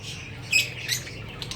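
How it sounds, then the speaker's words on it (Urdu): Pet parrots in a cage squawking, a couple of sharp, fairly close calls standing out briefly above a steady background hum, with no talking. "یہ میرے پہلے والے طوطے ہیں"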